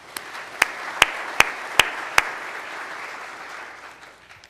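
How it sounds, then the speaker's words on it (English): Audience applause for donors at a club foundation celebration: a soft patter of clapping underneath, with six sharp, evenly spaced claps standing out near the front before the applause thins and fades. "But donors, give yourself a round of applause as a pat on the back for what you're doing."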